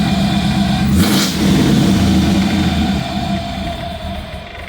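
An LS3 V8 fitted with 317 heads and an LS1 cam idles close by, a loud, lumpy rumble that rises briefly as if blipped, then settles and sags slightly toward the end.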